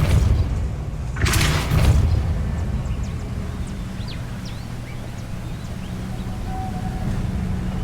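Depulso spell cast in the Hogwarts Legacy video game on PS5: a loud burst-like whoosh and thump near the start, followed by a low rumbling game ambience with faint chirps and small effects.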